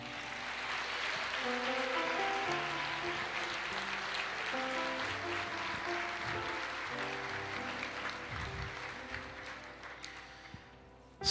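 A church congregation applauds during a service, a soft, continuous patter of clapping at a distance, with sustained musical tones from an instrument underneath, tapering off before a sudden bump at the close.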